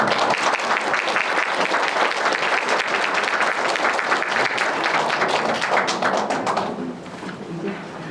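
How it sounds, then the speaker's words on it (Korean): Audience applause in a hospital lecture hall welcoming the director of the aortic vascular hospital at an aortic health lecture, loud dense clapping sustained for about seven seconds before tapering off to a few scattered claps. "박수로 맞아주시고"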